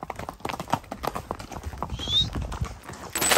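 A mare's hooves clip-clop in a quick, uneven rhythm close by during a horseback ride, growing louder toward the end, with a brief high whistle-like squeal.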